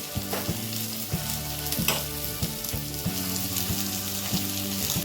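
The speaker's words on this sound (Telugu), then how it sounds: "ఉల్లిపాయ, పచ్చిమిర్చి, కరివేపాకు ఇవన్నీ వేసి కొంచెం మగ్గినాక పిండిలో కలుపుకుందాము" Onion, green chili and curry leaves fry in oil in a pan for gunta ponganalu, giving a steady, close sizzle with faint stirring clicks throughout.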